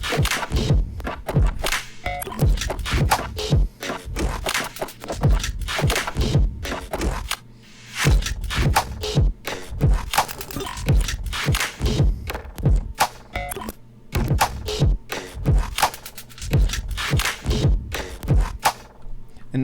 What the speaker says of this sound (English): one beat that I was actually writing yesterday without any other context, it's just drums